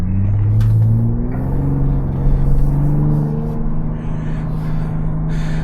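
A 2026 Ford Bronco Raptor with 418 horsepower and 440 pound-feet of torque accelerates, a steady deep engine rumble with rising tones heard from inside the cabin.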